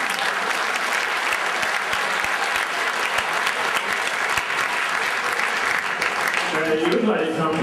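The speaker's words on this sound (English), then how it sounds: "Alex, give Alex a round of applause." An audience applauds a volunteer at a magic and juggling show, loud continuous clapping from a close crowd that carries on steadily the whole time before thinning out near the end.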